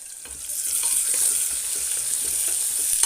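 Cinnamon stirred into onions frying in oil for veg biryani in a pressure cooker, giving a steady bright sizzle with a spoon scraping underneath; close and continuous, with no talking.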